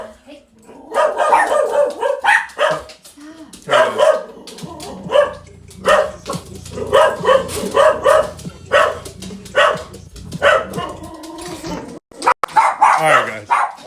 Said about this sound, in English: Oh, I think the dogs are here.